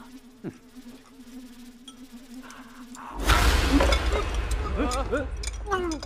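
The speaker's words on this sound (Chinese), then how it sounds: "大冬天的，这哪来的苍蝇啊？" A housefly buzzes steadily and close by in a quiet wintry room for about three seconds, then a sudden loud clatter and busy commotion take over.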